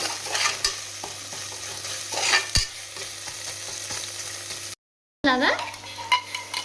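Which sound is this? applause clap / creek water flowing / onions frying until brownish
onions frying until brownish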